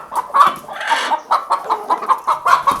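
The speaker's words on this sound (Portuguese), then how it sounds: "Nós temos a galinha choca, ó, a galinha choca." A broody free-range hen clucks close by in a steady run of short, repeated notes, loud and continuous with no talking over it.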